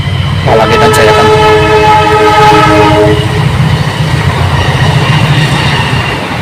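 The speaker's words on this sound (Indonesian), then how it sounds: "Aduh, ini kereta" A passing train sounds a loud horn blast with ringing harmonic tones for a few seconds, then a steady heavy rail rumble continues close by.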